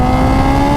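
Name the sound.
Kawasaki Ninja H2 motorcycle accelerating at full throttle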